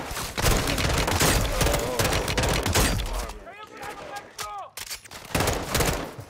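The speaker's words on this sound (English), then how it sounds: "Okay, two shots with the shotgun." Shotgun blasts and bursts of gunfire from Modern Warfare 2 crack out in dense, loud volleys, then thin to a few scattered shots with ringing tails, while someone talks over parts of it.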